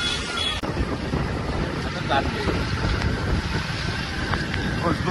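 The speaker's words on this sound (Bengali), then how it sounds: "বৃষ্টি হচ্ছে, প্রচুর বৃষ্টি।" Heavy rain with wind during a motorbike ride to a market, a dense, roaring rush of wind and downpour buffeting the microphone throughout, loud and continuous.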